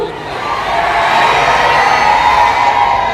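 A dense crowd at a political rally cheers and shouts in a steady, loud roar that swells slightly after the first half-second and holds without a break.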